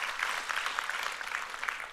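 An audience at a book release party for Main Street Millionaire breaks into steady applause, a dense, even wash of clapping hands that holds for the whole moment at moderate loudness.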